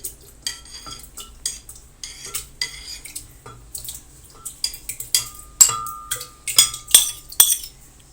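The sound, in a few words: adding two cups of yogurt to a bowl for kadhi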